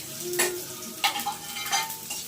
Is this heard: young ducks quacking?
no